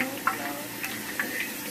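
Grease heats in a pan with a soft, continuous sizzle and scattered small pops and ticks of bubbling, faint and close, with no talk.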